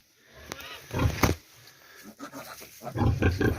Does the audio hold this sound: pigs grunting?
yes